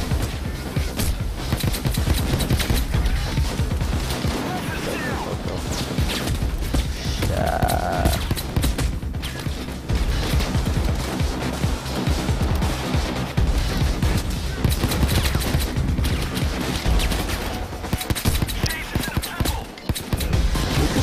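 Video game gunfire in Payday 2, with dense, continuous rattling volleys and sharp cracks layered with crashes and explosions, loud throughout and occasionally under brief talk.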